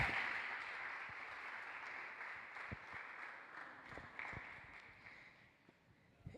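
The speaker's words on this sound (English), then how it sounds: "a round of applause for Arjun in the Aston Martin." A crowd applauds steadily at a distance, the clapping quiet and continuous for several seconds.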